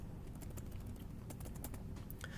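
Typing on a computer keyboard, a quick, close run of soft key clicks and taps in an irregular rhythm, faint and unaccompanied by voices.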